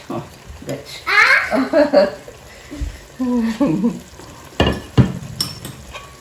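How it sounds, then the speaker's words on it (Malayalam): Fried prawns are stirred through biryani in a pot, with soft scraping and sizzling heard under people chatting, including a voice and some laughter. "നമ്മളിത് പ്രോൺസ് ആഡ് ചെയ്തു. അത് മിക്സ് ചെയ്യാണ്."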